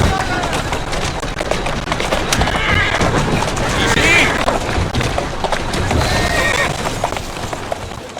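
Horse whinnying and clip-clopping hooves in Assassin's Creed Syndicate, set on Victorian London streets, with loud rhythmic hoofbeats, a couple of distinct neighs and occasional thuds, while people talk over it.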